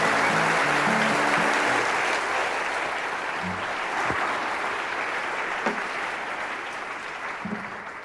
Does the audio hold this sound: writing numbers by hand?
no